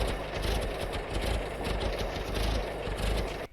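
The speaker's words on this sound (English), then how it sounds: "struggling engine." A struggling, failing bus engine built as an animation sound effect rumbles and sputters continuously in a dense, uneven low drone with rattling pulses throughout, loud and close.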